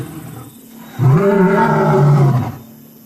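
A lion roars once, loud and close, in a long deep sustained bellow lasting over a second before fading, with quiet ambience before and after.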